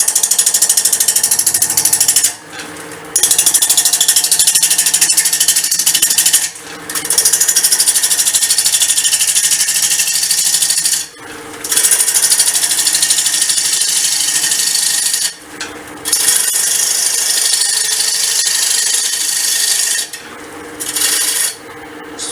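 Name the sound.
wood lathe turning a bowl with a 1/2 inch bowl gouge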